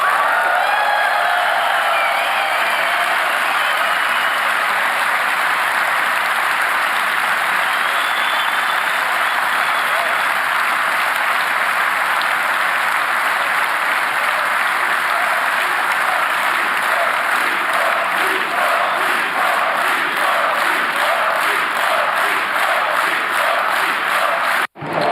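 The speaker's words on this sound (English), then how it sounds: "the crowd is chanting encore" A large crowd at a political speech in Budapest applauds loudly and steadily, and the clapping gradually turns into a rhythmic chant of encore before stopping abruptly.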